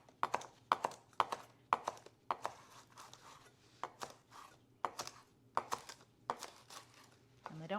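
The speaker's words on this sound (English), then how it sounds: "So we're just going to chop these up." Green onions fresh from a home garden being chopped on a board, a steady run of crisp knife strikes with short pauses between bursts, close and clear, with a soft background hum and no talking.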